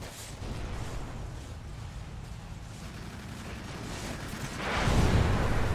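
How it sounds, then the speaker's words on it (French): Weapons in a strategy video game fire at buildings, heard as a continuous low rumble of distant artillery-like booms that swells louder toward the end, with no voices over it. "Pourquoi ça tire dans les bâtiments?"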